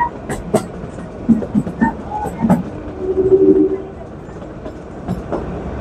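A Kalka–Shimla toy train halted at Salogra station, with clunks, brief creaks and a short mechanical hum nearby, while people talk quietly in the background.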